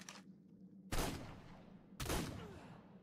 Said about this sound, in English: I'll shoot your foot.